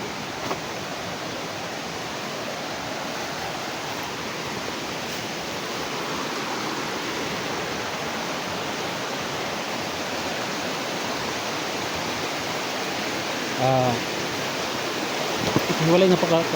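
Forest stream on Burias Island flowing steadily, a dense, continuous rush of water close by, with a couple of faint brief sounds near the end.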